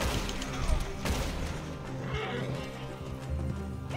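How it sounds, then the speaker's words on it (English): A horse in Red Dead Redemption 2 Online neighs and gallops amid rough, noisy game action, with hoofbeats and sharp crashes close by. "Run, horsey! Run!"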